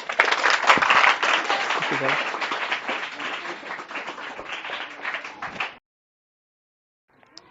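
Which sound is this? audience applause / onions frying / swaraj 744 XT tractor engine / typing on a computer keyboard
audience applause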